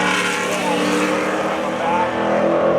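Engines of a 1994 Pontiac Firebird and a 2000 Chevrolet Camaro roar steadily at a spectator drag race finale, a loud continuous drone with harmonic whine, mixed with commentary from a race announcer.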